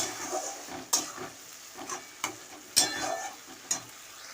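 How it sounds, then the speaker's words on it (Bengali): A spoon stirs spice paste frying in hot oil for a chicken curry, with a steady sizzle under sharp periodic scraping knocks at a slow, uneven rhythm, close and clear. "মশলাটা কষবো এখন।"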